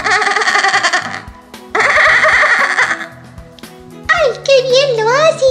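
A voice imitates a horse, giving a wavering, whinny-like call after two earlier bursts of bright, buzzy voiced sound, all close and fairly loud.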